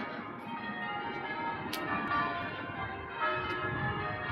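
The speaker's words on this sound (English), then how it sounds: "You hear the bells as you get closer to the cathedral" Cathedral bells in Carlisle ring steadily in the distance, their tones blending into a continuous shimmering wash over faint street ambience.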